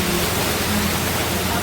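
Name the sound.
heavy rain at college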